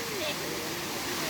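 The big waterfall at Kuang Si near Luang Prabang pours in a dense, unbroken roar, loud and close, filling the whole moment as a voice speaks over it.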